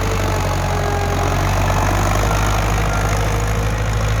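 A Ford farm tractor idles steadily, a loud, close, continuous low diesel drone with a faint knocking texture and no talk.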